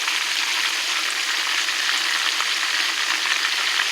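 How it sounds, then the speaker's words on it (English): Unbattered chicken drumettes fry in hot oil on a stovetop, giving a loud, even, continuous sizzle with a faint pop or two and no voices. "I'm going to fry them done on the stove"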